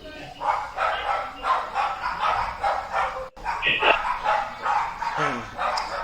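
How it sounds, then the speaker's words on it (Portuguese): A pack of small dogs kept at a house barks repeatedly in quick, yappy bursts from a short distance, mixed with a person's talking. "Só faz barulho, só tudo cachorrinho pequenininho, sabe?"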